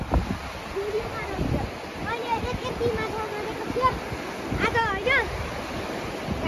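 The cold Seti River in Bajhang, Nepal, rushes past as friends wade into mid-stream to set fish traps, a loud steady roar of flowing water and wind with children's voices calling and chattering over it.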